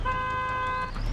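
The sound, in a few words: car horn honking in the video game Rust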